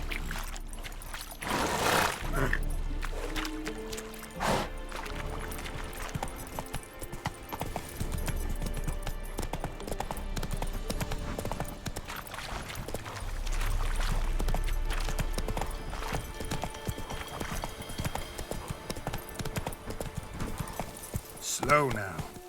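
Roach, the horse in The Witcher 3, clip-clops along, hooves beating in a rhythmic stream that slows and picks up again, with a short whinny near the start. Someone talks over it, calming the horse.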